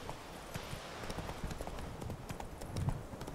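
Roach, a horse in The Witcher 3 video game, gallops with rapid, rhythmic hoof clip-clops that stay close and steady throughout.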